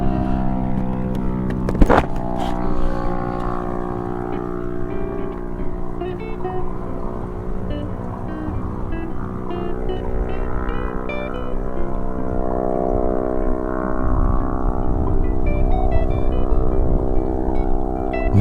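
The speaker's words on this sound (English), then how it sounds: "She lost her exhaust somehow. The whole exhaust is gone." A scooter with its whole exhaust missing runs loud and raw, a harsh steady engine drone that rises gradually toward the end, broken once by a sharp knock near the start.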